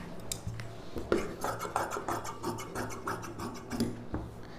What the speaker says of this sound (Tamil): இப்போ வந்து இதை அப்படியே நம்ம கட் பண்ணிக்கலாம்